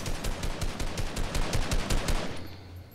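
Rapid bursts of automatic gunfire in a Fortnite match crack close by in quick, uneven volleys for most of the stretch, then drop away abruptly near the end.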